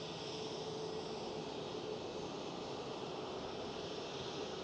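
A distant Airbus A321 at Schiphol Airport produces a steady, even jet-engine roar with broadband rumble that holds constant throughout, fairly faint and without voices.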